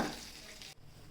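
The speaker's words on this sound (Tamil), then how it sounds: "நல்ல லைட்டாக அந்த நெய்யில் வந்து ஃப்ளேவர் வர்ற அளவுக்கு ரோஸ்ட் ஆகட்டும்" Semolina roasting in ghee for kesari sizzles softly in a pan, a faint continuous frying hiss with light stirring scrapes and a brief dip near the end.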